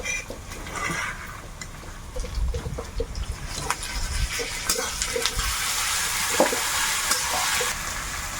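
Ginger garlic paste dropped into a pan of browned onions sizzles and hisses while being stirred, with spoon scrapes and pops close by in a home kitchen.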